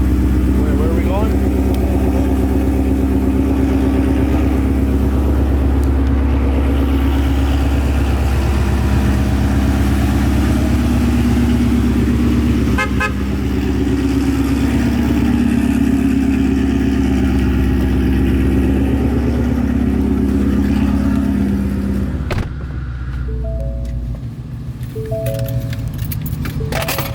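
A Ford Mustang 5.0 V8 drones steadily and loudly for most of the clip, then its pitch and level shift near the end, as if it eases off.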